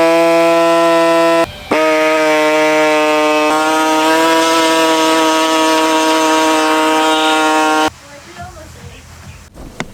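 A power tool whines steadily as it cuts away plastic trim on a car for a 1000HP intercooler install, running loud and sustained with a brief stop near the start, then cutting off into quieter workshop noise.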